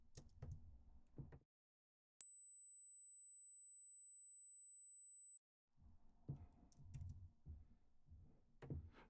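A steady 7,000 hertz sine test tone holds unbroken for about three seconds, clean and alone, with faint low talk before and after it.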